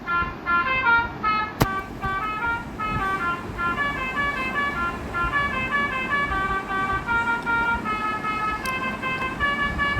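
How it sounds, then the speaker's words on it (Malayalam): A bus horn sounds near and loud as a multi-tone musical horn, stepping through a tune in short, even notes over low vehicle rumble. "ഞാൻ ഹോൺ കേൾപ്പിച്ചു തരാം"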